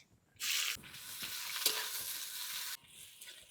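Onion hitting hot mustard oil with bay leaf, whole cumin and whole garam masala in a heated wok bursts into a loud, steady sizzle that holds for about two seconds, then drops back to a quiet crackle.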